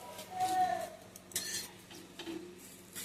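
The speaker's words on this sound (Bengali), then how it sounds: "এই যে এবার খুন্তির সাহায্যে এটাকে এইভাবে ভাঁজ করে দেবো" A spatula folds a fried item over its potato filling in a frying pan, giving a few soft, close scrapes and clinks over a faint, quiet sizzle.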